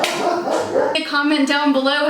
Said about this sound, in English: I am so sorry for my dog's interruption, but that's what it's like living with a German Shepherd.